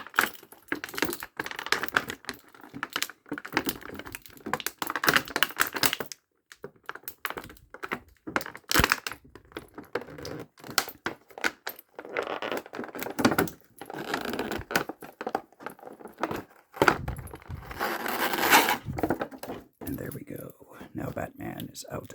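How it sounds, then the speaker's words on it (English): Crinkling, tapping and clicking as an action figure is pulled from its plastic packaging, a close, busy stream of small handling noises with brief pauses, accompanied by soft whispered speech throughout. "I always like to do something like this when taking my figures out of the packaging."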